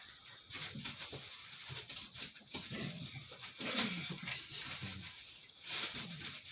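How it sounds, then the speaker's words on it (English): Dogs barking and whimpering in the background, a steady agitated commotion that sounds somewhat distant and continues throughout the clip with no speech over it. "I got the dogs in my background here throwing a fit."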